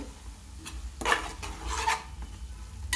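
Ginger garlic paste fries and gets stirred in a pan for a fish curry, with soft sizzling under a few quick scraping and clinking strokes of a utensil against the pan, fairly quiet.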